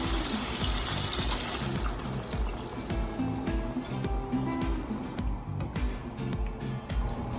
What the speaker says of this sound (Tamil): தண்ணி நீங்கள் சேர்க்குறப்போ இந்த மீட் அப்படியே மூடுபடுற அளவுக்கு நீங்கள் தண்ணி சேர்க்கணும்.